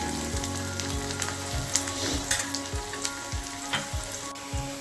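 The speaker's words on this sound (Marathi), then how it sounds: "परतून घेऊया।" Onion sautéing in hot oil, a loud, steady close sizzle with occasional light stirring scrapes.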